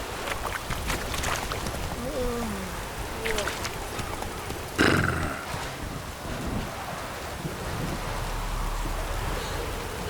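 Geralt's horse Roach galloping in The Witcher 3 amid rain and outdoor game ambience, hoofbeats blending with a wash of rain noise and a sudden loud burst midway, with a voice speaking briefly.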